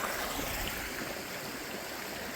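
Coon Run, a creek along the Finger Lakes Trail, flows with a steady, soft rushing and babbling of water, continuous and fairly faint, with no voices.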